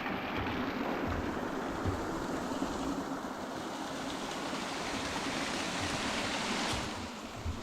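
Water flows steadily along a small stream beside a little bridge on a hiking trail in Shenandoah, a continuous rushing wash with some wind noise, close and even throughout.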